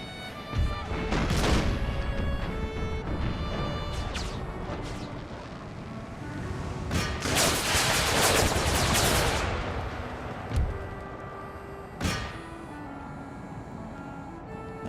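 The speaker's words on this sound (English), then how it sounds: "These are howitzers, that's why they're explosive and have less range." Howitzer artillery in an Empire: Total War mod battle: a long run of distant booms and crackling gunfire, a heavy rolling barrage in the middle and a few separate sharp blasts near the end.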